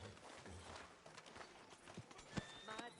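Horse hooves clip-clop at a walking pace in Red Dead Redemption II, quiet and close, with a short whinny near the end and faint talk underneath.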